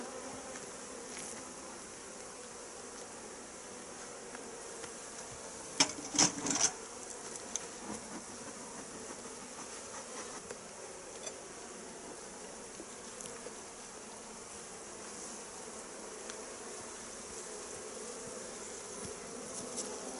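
Honeybees buzzing around brood frames of a hive, a steady close droning hum throughout, with a few brief louder buzzes as bees pass near.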